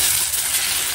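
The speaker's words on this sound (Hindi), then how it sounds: "इन सबको हमने जो है ऑयल में अच्छे से ऐड कर लेना है, और इसे कुछ सेकंड के लिए इसमें तड़क लगने देंगे" Carom seeds, cumin, fenugreek and red chillies crackle in hot oil, a steady close hiss of bright sizzling and popping throughout.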